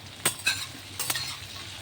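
A utensil scrapes and clinks in a pan as vegetables with small fish are stirred and fried, four sharp strokes over a steady low sizzle, close and alone.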